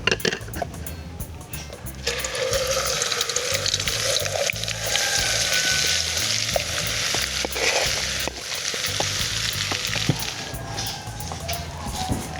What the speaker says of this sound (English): And then we're going to melt our butter.